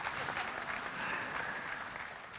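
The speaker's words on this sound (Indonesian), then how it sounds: "tepuk tangan enggak apa-apa" A church congregation applauding during a sermon, a brief burst of steady clapping from many hands in a large room, moderately distant and fairly quiet.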